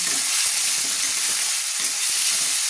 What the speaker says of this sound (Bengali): আলুটা ভাজা পর্যন্ত আমরা অপেক্ষা করছি